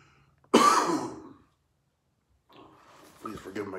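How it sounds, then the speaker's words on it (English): A person with a cold lets out a sharp, harsh cough that fades over about a second, followed by silence and then low talking. "Please forgive my coughing."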